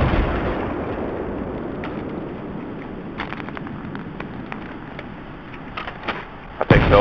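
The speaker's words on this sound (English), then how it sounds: "I put the throttle up too far and I blew up." A jet blows up in the video game Battlefield 3. A loud explosive boom rumbles and fades, followed by scattered sharp pops and bursts from game combat.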